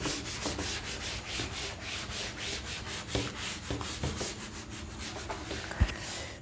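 A duster rubs writing off a classroom board in rhythmic back-and-forth strokes. The scrubbing is steady and close, with a single sharper knock near the end and no talking.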